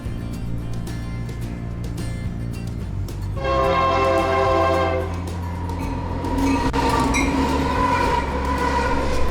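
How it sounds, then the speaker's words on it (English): A train rumbles steadily through a station, wheels and engine droning loudly, with a high sustained tone rising midway as it passes. "right now I'm at the train station again."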